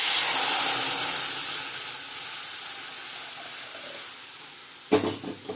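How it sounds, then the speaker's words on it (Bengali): Water hits a hot kadai that still holds oil from frying peanuts and bursts into a loud hiss that slowly fades. A brief metallic clatter of the pan follows near the end, and no one speaks. "এবার এই কড়াইতেই আমি জল দিয়ে দেবো"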